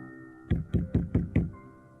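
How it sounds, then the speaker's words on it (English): Five firm, evenly spaced knocks strike a door, close and resonant, with no voices over them; the knocking comes from a landlord calling at an apartment. "when Mr. Roach, the landlord, knocked at the door"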